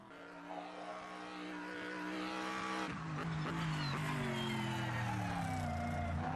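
Race car engines in a racing video game roar and rise in pitch, revving up through gears with a throaty, building drone that grows louder over several seconds.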